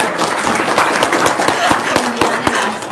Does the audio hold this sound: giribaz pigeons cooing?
no